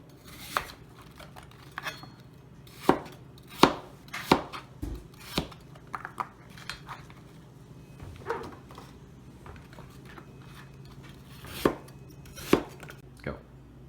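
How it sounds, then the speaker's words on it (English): Golden Delicious apples being cut into pieces on a board for apple crisp, with a series of sharp knife chops landing at an uneven pace, some louder than others, close by and without talk. "So I just pretty much finished cutting up the rest of the apples"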